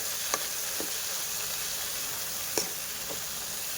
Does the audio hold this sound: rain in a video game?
no